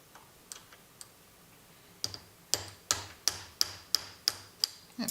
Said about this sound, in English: So I'm just using a brass rod and a hammer.